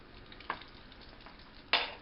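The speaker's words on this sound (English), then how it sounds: "Meanwhile, you can see that everything's sizzling up over here" Food frying in butter in a pan gives a quiet, steady sizzling hiss, broken by two brief sharp clatters, like a utensil knocking the pan.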